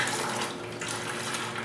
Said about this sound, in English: a siphon will actually suck water upward as long as its outtake end is at a lower elevation.